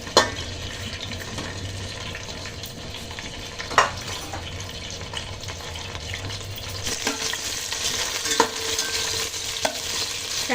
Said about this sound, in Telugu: క్యాప్సికమ్ కాసేపు ఫ్రై చేసుకున్నాము